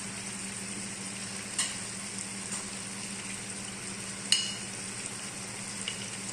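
Vegetables and chicken for a curry fry in oil in a pan with a steady, soft, continuous sizzle, broken by a couple of faint clinks.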